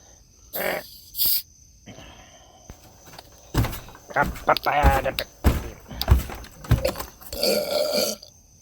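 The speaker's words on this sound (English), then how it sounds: "That was an interesting belch." A few short bursts of sound, then a drawn-out belch followed by scattered noises and bits of voice, fairly quiet and close.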